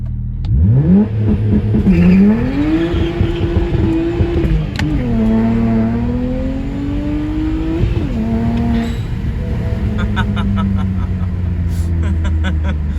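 A BMW 335i with launch control revs hard, its engine climbing sharply, holding near 4,200 RPM, then dipping and rising again in loud close bursts, with crackling pops near the end.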